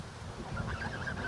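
A flock of geese being fed gives out loud, nasal honks that repeat in a wavering rhythm, close by, with no talk over them.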